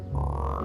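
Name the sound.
cartoon frog croaking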